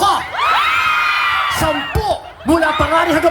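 A live outdoor crowd on Chater Road, Hong Kong, shouts and cheers loudly, with high whoops and yells rising in bursts over a steady din of voices.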